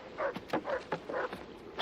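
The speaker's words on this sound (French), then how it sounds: "pourquoi n'entendent-ils pas les chiens aboyer?" Sled dogs on polar ice give a rapid series of short, moderately loud yips and barks in an irregular rhythm.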